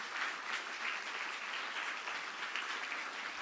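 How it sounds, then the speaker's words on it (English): An audience at a speaking event in Taiwan welcomes former UK Prime Minister Liz Truss with sustained, even clapping that is moderately distant and steady throughout, with no voices over it. "please join me to welcome the Right Honourable Liz Truss, Member of the UK Parliament and former UK Prime Minister, with a warm round of applause"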